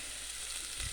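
Green beans and chilies fry in plenty of olive oil, giving a soft, even, continuous sizzling hiss that stays low and close.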